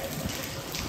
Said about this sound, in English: Feels like it's raining.